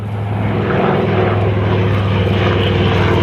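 A propeller airplane taking off at the Geneseo air show, its engine a loud, steady, close droning roar with a strong low hum and rough buzzing, filling the whole stretch with no talking.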